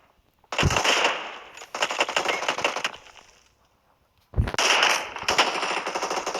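Automatic gunfire from the PUBG Mobile battle royale game: two long, loud rapid-fire bursts, a short gap, then more sustained firing close up, with no talking.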